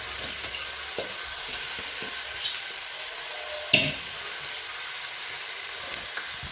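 Ponnanganni greens are sautéed in a pan: a steady, airy sizzle underlies a few scattered spatula clinks against the metal, close and unbroken, with no one speaking.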